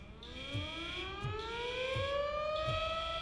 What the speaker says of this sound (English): Sounds like a hurricane siren, doesn't it? Or a tornado siren.